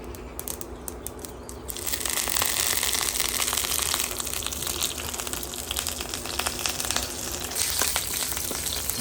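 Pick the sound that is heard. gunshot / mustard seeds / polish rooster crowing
mustard seeds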